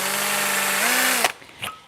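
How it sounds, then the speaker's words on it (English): A power drill whines steadily as its bit bores through a dried gourd, the motor pitch rising slightly before stopping abruptly, followed by a brief faint rattle and a short high tone; close and loud, no speech. "this little gourd is a little too wide for my drill bit to go all the way through"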